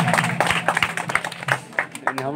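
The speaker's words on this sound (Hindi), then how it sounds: "इनके लिए जोरदार तालियां।" Applause at a Republic Day 2020 award distribution ceremony for prize recipients, a steady patter of clapping from a crowd mixed with voices throughout.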